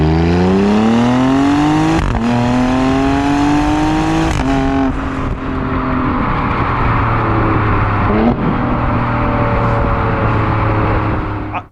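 An Alfa Romeo Stelvio Quadrifoglio SUV accelerates hard, its loud exhaust rising in pitch through several gear pulls with sharp cracks at each shift, then settling into a steadier cruising roar before cutting off.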